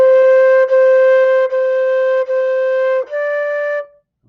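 A flute plays five tongued notes close up, each cleanly separated by a brief articulation while the air keeps flowing. The first four share one pitch and the last sits slightly higher.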